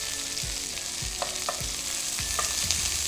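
Onion fries in a pan during Korean vegan cooking, a continuous close sizzle with soft periodic scraping as it is stirred.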